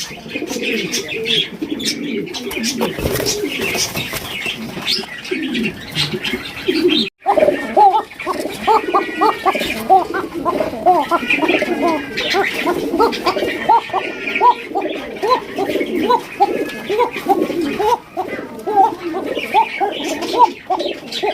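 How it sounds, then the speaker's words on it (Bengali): Many large Bashiraj Koka pigeons cooing in low, throaty bursts throughout, with occasional chirps and wing flutters and a voice talking at times underneath. "একদম বিগ সাইজের কবুতর"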